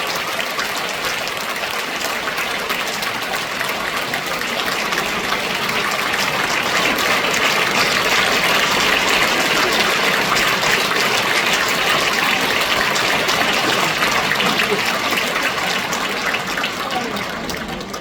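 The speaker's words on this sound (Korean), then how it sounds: "다시 한번 힘차게 우리 박수로 환영하겠습니다." A big church congregation claps heartily at a mission conference, a thick, continuous roar of applause that swells slightly midway and fades a little at the end, with a voice faintly beneath it.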